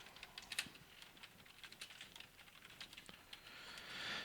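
Quiet, steady typing of code on a computer keyboard, with a rapid run of soft key clicks continuing alone throughout.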